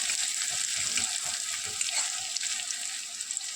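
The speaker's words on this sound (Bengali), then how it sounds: "দেখুন রসুনটা আমার ভাজা হয়ে আসছে, লাল বর্ণের হয়ে গেছে।" Garlic fries in oil in a pan with a steady, bright sizzle, while a utensil stirring against the pan adds soft scraping knocks throughout.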